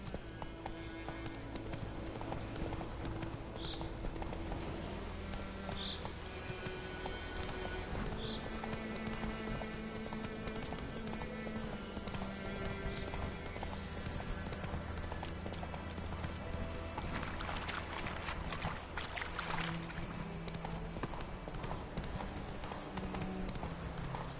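Horse hooves gallop in a steady rapid rhythm through the Witcher III video game, continuous and fairly loud, with occasional snorts and ambient game sounds.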